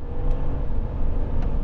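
A 2025 RAM Rebel 1500 truck launches hard from a standstill, its engine a loud, close, steady low roar with rumbling drivetrain noise throughout the short burst.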